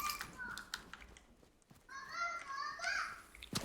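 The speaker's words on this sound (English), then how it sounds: "You can probably hear the kids yelling in the courtyard." Children yelling in a courtyard, heard as faint, distant high-pitched shouts and chatter from several kids, coming and going over a low background.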